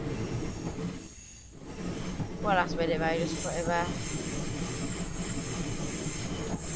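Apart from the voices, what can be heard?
train passing by in a train simulator video game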